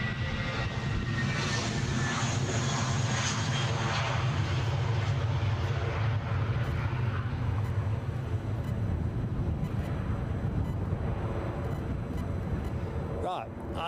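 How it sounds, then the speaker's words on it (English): A passenger jet departing Edinburgh Airport for Athens roars loudly and steadily throughout, its broad engine rumble holding under gusty wind, with a brief clatter near the end. "Here we go folks, back to Athens goes this plane."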